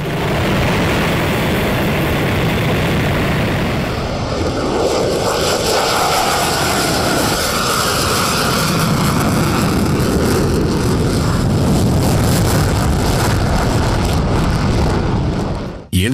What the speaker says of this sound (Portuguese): o monstruoso som produzido pelos caças e os aviões civis